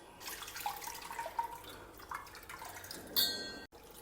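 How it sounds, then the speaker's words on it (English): Soaked tamarind is squeezed by hand in a cup of water to extract the juice, giving soft wet squelches and sloshing, a few small clinks, and a brief louder splash near the end. "Here I have soaked a lemon-sized piece of tamarind in a cup of water. We'll extract the juice."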